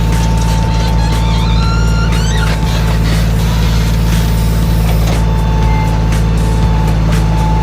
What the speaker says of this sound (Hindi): ये जेसीबी से ऑपरेट कर रहा है